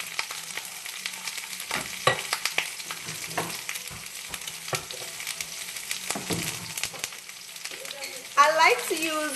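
Vegan chop suey stirred in a frying pan, with steady sizzling and frying broken by scraping stir strokes. A voice speaks briefly near the end.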